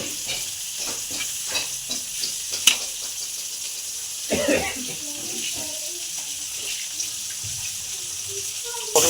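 Pointed gourd (potol) fries in hot oil in a home kitchen. A steady sizzle runs under scraping stirs and a few sharp clinks, with a louder spoon-and-pan clatter midway.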